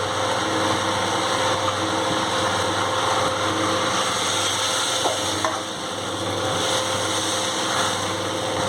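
Gram flour batter being stirred into a hot cooking pan, giving a steady sizzling and frying hiss with faint scraping, continuous and close throughout.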